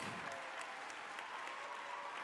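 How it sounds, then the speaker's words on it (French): Faint, distant audience applause at a free-singing competition show, a soft continuous wash of many hands clapping with no voices over it. "Est-ce qu'on peut acclamer, applaudir pour Genovic?"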